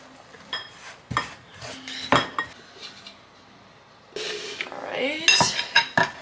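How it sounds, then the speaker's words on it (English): A heavy spoon mixes yeast and flour dough in a bowl in a home kitchen, giving intermittent scrapes, knocks and clinks against the dish, close and moderately loud, with faint background TV sound. "Mix well with a heavy spoon."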